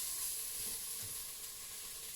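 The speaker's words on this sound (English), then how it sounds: "Sizzle, that's a good sound." Beef browns in a hot pan, a steady close frying hiss with faint crackles and a soft scrape, no voices.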